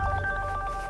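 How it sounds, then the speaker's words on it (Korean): A deceased person's mobile phone plays a short electronic ringtone of steady, bright tonal notes in a quiet room, ringing alone. "며칠 전 현장에서 들었던 고인의 핸드폰 벨소리가 제 방 안에 울리고 있었습니다"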